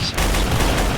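Dense video game gunfire rattles loud and close in a continuous barrage, briefly dipping before resuming.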